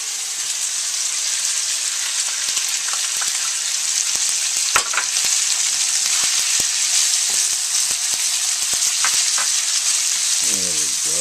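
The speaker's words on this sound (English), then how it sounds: "Then we'll put in our mushrooms." Mushrooms stir-frying for ramen in a hot pan, a loud, continuous sizzle with occasional sharp clicks of a utensil against the pan, close up and with no speech.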